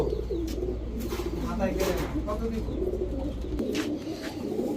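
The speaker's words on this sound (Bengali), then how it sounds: "এই কবুতরগুলা অলরেডি সে পনেরো কিলো থেকে ব্যাক করছে" Giribaz high-flyer pigeons coo in soft repeated throaty calls close by, under someone talking steadily.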